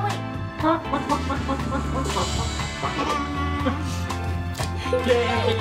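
A toy chicken gives out clucking and crowing-style electronic sounds amid busy, cluttered background noise, with a voice talking faintly at times.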